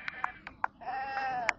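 Goats bleating at a market with big and female goats for sale, several short cries and one longer drawn-out bleat over a low crowd murmur.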